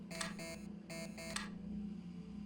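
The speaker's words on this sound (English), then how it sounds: "Yeah, keep beeping." An electronic device inside a submarine video game gives off bright, evenly spaced pairs of short beeps over a steady low hum, then the beeping stops and only the hum remains.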